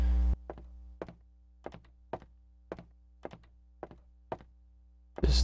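In the horror game Emily Wants to Play, a door is worked repeatedly, giving a steady series of about eight sharp wooden thunks spaced roughly half a second apart over a low hum, with louder bangs at the start and end.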